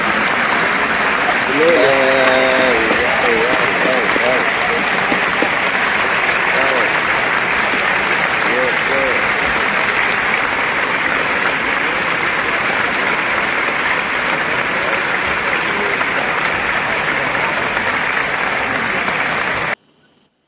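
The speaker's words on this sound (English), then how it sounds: "So that deserves a round of applause." Sustained applause from a crowd at a live gathering lasts about twenty seconds at steady volume, and voices talk and cheer briefly over it early on before it stops abruptly.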